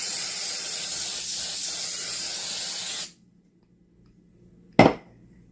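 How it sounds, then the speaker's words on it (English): Rave hairspray hisses in a steady aerosol spray onto fabric for about three seconds, then stops abruptly; after a pause comes one brief, sharp knock. "I'm going to take some of this Rave hairspray just to see if it'll lock in that color."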